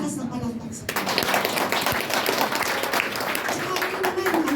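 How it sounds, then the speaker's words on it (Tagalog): A church congregation bursts into loud applause for the Lord, with dense, steady clapping that holds throughout. A voice is heard briefly before the clapping starts. "Sa malakas na palakpak sa Panginoon"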